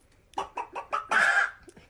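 A chicken clucks four short times in a steady rhythm, then gives a longer squawk, close and clear with nothing else; likely a person mimicking a chicken with their voice.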